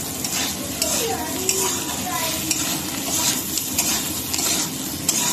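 Potatoes with salt and turmeric powder are stirred in a sizzling frying pan, a steady scraping and hissing that continues throughout, with faint utensil clinks against the pan.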